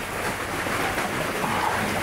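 Heavy downpour outdoors in the Philippines, a dense, continuous broadband roar of rain with a steady level throughout and no one talking.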